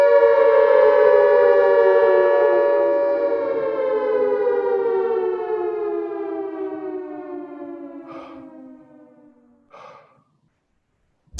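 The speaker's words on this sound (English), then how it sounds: "The air raid siren you have just heard is a false alarm" An air raid siren sounding a false alarm wails loudly and steadily, its pitch slowly sinking as it winds down, with a couple of faint breaths near the end.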